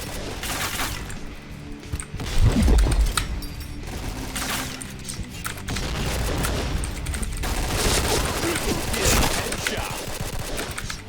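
Rapid bursts of gunfire from a PB team shooter game, dense overlapping shots and booms running throughout with a few louder hits, under some talk.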